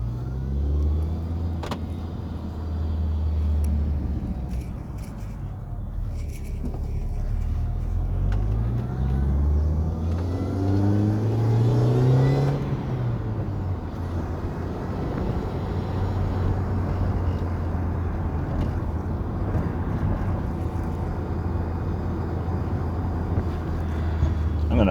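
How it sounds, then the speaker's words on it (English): A 2006 Mini Cooper S drives along with a steady low engine rumble and road noise, one rising then falling pull midway, heard from inside the car with some talk early on. "I will try to shut up here as we drive just so you can hear the car."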